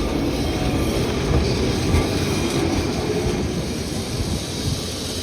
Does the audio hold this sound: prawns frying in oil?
no